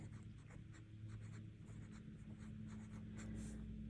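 An Opus 88 Demo Clear fountain pen with a medium nib writing on paper, faint scratchy strokes in a steady repeating rhythm of downstrokes and cross strokes, close up over a low background hum.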